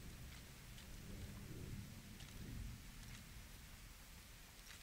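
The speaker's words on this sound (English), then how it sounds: "Wait, is the rain starting to go away?" Rain patters steadily with low rumbles of thunder rolling underneath in Lego Fortnite, faint and continuous with no voices.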